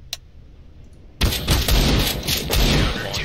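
After a second of near silence with a faint tick, automatic rifle fire from the CS:GO video game bursts out loud and close, rattling on in quick rapid shots for about two seconds.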